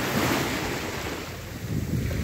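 Sea waves wash steadily on Port Fuad beach, a continuous loud surf roar mixed with wind buffeting the microphone, with no voices.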